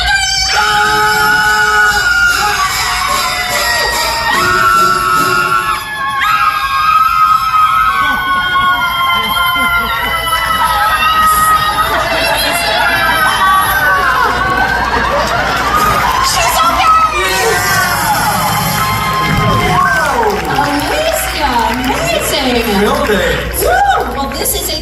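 A large audience at a Universal Studios Hollywood special effects show screams together on cue, a loud sustained crowd roar with children's shrieks and cheering that swells and fades over many seconds, with a presenter's voice over it.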